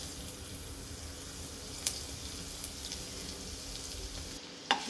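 Garlic, ginger and green chillies fry in hot oil in a kadai, with a soft, continuous sizzle and a few faint stirring clicks, then a sharper clatter near the end.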